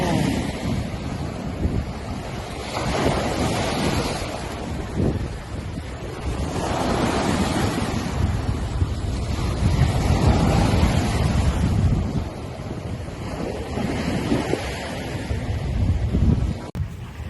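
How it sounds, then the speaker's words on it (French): Gusty wind buffets the microphone over rolling surf at Nual Beach on Koh Larn, Thailand, swelling and easing in waves, with no clear talk. "comme vous le voyez, il y a toujours du vent."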